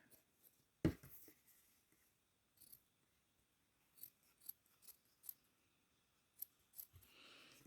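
Scissors snip away excess yarn on a crochet Halloween zombie amigurumi, several sharp, close, quiet cuts spaced irregularly.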